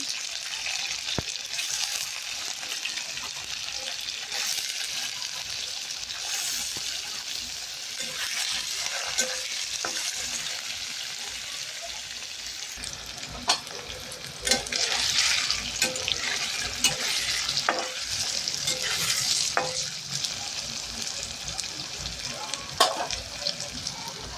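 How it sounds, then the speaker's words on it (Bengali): Paneer frying in hot oil in a wok, a steady close crackling sizzle throughout with occasional stirring scrapes and clinks, growing busier toward the end. "লাল লাল করে ভেজে নিচ্ছি"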